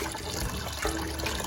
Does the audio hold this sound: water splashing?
yes